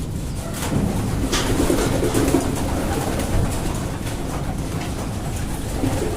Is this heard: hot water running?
no